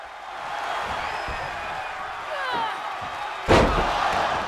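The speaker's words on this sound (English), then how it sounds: "a reverse choke slam, slamming Mercedes Martinez face first" A wrestler is driven face first into the mat with a reverse choke slam during a women's wrestling match, landing as one sharp, loud impact near the end over a steady crowd murmur.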